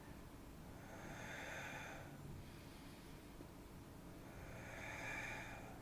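Two slow breaths during a Pilates exercise for the back, hips and thighs, soft and breathy, one at about a second in and another near the end, over a faint steady background.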